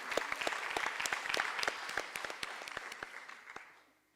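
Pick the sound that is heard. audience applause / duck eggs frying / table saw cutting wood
audience applause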